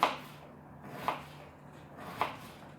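Three sharp knife chops through an onion on a board, spaced about a second apart, close and fairly quiet, with a low steady hum underneath.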